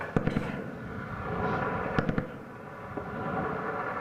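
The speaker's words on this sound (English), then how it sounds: "You just hear that background fire, that's just guys in the green zone, the ANA, just taking pot shots." Distant gunfire from Afghan National Army soldiers in the green zone: a few sharp cracks in quick clusters, faint and echoing, over a constant low outdoor rumble.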